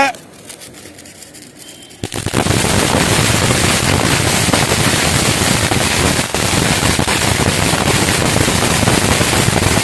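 A watermelon firecracker at Diwali: a long, dense crackling barrage of bursts, loud and continuous after a quieter opening, with voices faintly underneath.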